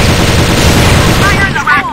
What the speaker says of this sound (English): Fire in the hole. Yes. Flash bomb.